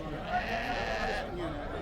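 Sheep bleat close by amid busy crowd chatter at a sheep market in Kirkuk, Iraq, a few drawn-out calls rising over voices and general market noise.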